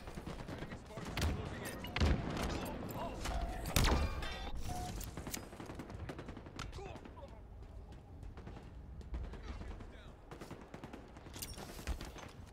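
Bursts of rapid gunfire in a first-person shooter video game, dense rattling volleys and sharp single shots overlapping, loudest early on and then continuing at a lower, steady level through the rest.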